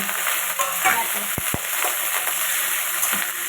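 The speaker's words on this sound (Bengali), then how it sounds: "পেঁয়াজ আর কাঁচা লঙ্কা একসঙ্গে দিয়ে দিচ্ছি" Onion and green chili frying in hot oil with clove, cardamom, cinnamon and cumin, giving a steady close sizzle with stirring scrapes and two short clicks, with no talking.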